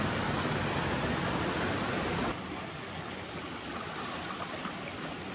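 A mountain stream rushes steadily on a trek toward Yellow Dragon Waterfalls, a broad, constant hiss of flowing water close by that drops slightly in loudness partway through, with no voices.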